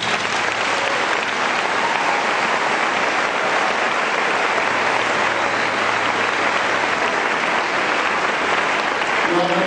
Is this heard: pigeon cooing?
no